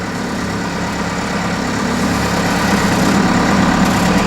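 A Cummins diesel engine swapped into a Ford F150 idles steadily, a close, continuous low rumble with constant vibration and no change in pace, and no voices present.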